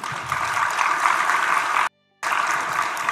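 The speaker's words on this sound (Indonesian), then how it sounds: "Jangan cepat tepuk tangan." Audience applause breaks out during a political speech by Prabowo, a dense steady clapping that fills the room, cuts off abruptly into a brief silence, then resumes just as loud.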